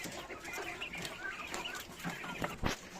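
Caged 23-day-old quails cluck and chirp continuously in a dense, close flock chatter, with scattered short calls and a few louder chirps near the end.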